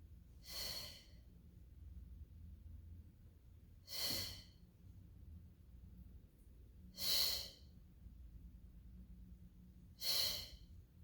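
Four forceful breaths pushed out during pilates leg lifts in a mat class, evenly spaced about three seconds apart, close and breathy against a quiet low hum.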